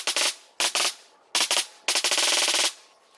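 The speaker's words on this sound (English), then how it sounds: "Sorry about the shots in the background there." Rapid bursts of gunfire from a shooting range, loud and sharp, fired in quick strings of several shots with short pauses between them, ending in one longer sustained burst.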